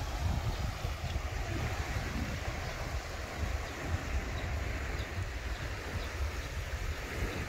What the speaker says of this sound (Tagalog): Ito yung dagat guys